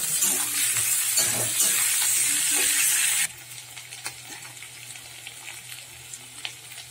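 Chopped potato and eggplant hit a pan of frying onions with a loud, steady sizzle for about three seconds, then the sizzle drops to a quieter crackle with faint clinks.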